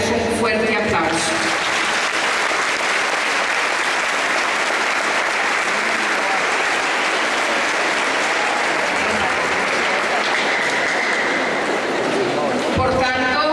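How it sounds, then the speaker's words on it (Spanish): Audience applauding graduating students at a school ceremony, a dense, sustained clapping that fills the room for over ten seconds before fading, with voices briefly at the start and end. "en este momento quiero pedir para ellos un fuerte aplauso"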